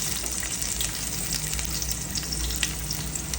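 Chopped garlic fries in hot oil in a wok, giving a close, continuous sizzle and crackle with small pops and no voices.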